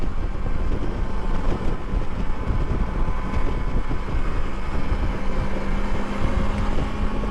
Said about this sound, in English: I keep wanting to shift to a higher gear, but there isn't one, but that's okay. She'll rev.